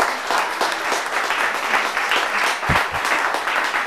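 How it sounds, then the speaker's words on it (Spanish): An audience at a lecture on fractals breaks into strong applause, a thick continuous patter of many hands, loud and sustained for the whole stretch. "Quiero que hagan un aplauso,"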